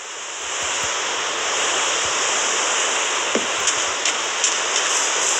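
Steady, even hiss of heavy rain in a video game pours continuously, with a few faint ticks and drips standing out near the end.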